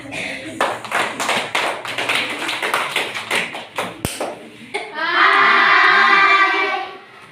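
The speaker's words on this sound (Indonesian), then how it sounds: "berikan tepuk tangan." A classroom group of students claps their hands together in a quick, fairly loud run of claps for several seconds, then the clapping gives way to a sustained tonal sound.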